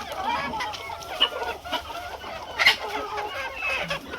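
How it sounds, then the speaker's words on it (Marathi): Free-range village hens cluck and squawk in a busy, overlapping chorus at close range while eating fish waste, with short sharp calls poking out over a steady murmur of the flock. "मित्रांनो बघू शकता आपल्या कोंबड्या मासे किती आवडीने खातात"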